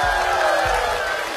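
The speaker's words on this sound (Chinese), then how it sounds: "掌声鼓励" Studio audience at a talk show cheering and clapping, a dense, loud wash of crowd noise with no break, heard close and continuous.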